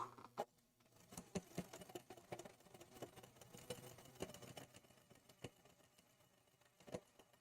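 Sewing machine stitching in free-motion quilting with a darning foot, a faint quiet whir punctuated by soft irregular clicks and taps over several seconds.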